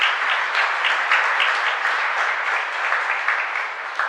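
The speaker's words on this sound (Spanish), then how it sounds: "para todos un fuerte aplauso de gratitud" A church congregation at a live parish mass applauds in gratitude, a continuous wash of many hands clapping at moderate volume, slightly distant and even from start to finish.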